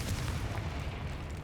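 A Confringo blasting spell exploding in the video game Hogwarts Legacy, a deep rumbling boom that holds as a dense low roar for over a second, loud and close.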